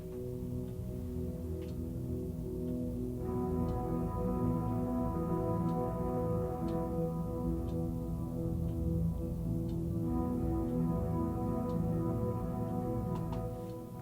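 Suspended guitars layered with the Hydra atmosphere from the Terrastrate sample library form a sustained, droning pad of shimmering tones, with faint ticking accents and a shift in texture midway, steady and even throughout.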